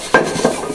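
Pots and vessels clinking in a kitchen sink as they are washed, two or three close metallic knocks over a moment, loud and alone.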